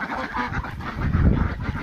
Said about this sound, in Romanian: Uitați și gâștele.